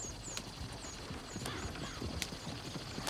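Steady clip-clop of horse hooves plodding along at a walking pace in Red Dead Redemption 2, fairly soft, over a low outdoor background with faint high chirps.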